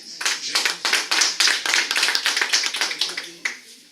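Audience applause at a meeting of Tunisian associations in France: a small group claps in quick, distinct, fairly regular strokes, close and moderately loud, before the claps thin out near the end.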